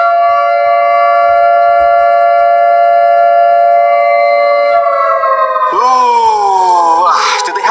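Nuclear attack warning siren, a loud sustained wailing tone with layered harmonics that holds steady, then bends and sweeps in pitch near the end as a second siren tone rises over it.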